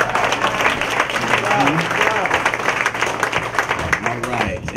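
A crowd at the Taste claps for the DJ, a loud, continuous wash of overlapping hand claps with some murmuring voices mixed in.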